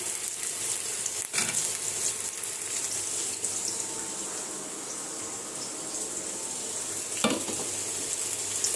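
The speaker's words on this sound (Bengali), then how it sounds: "পেঁয়াজটা আমি আদা ভাজা করবো" Onion and ginger fry in a pan with a steady, bright sizzle that holds up close throughout, broken by a couple of brief knocks and no speech.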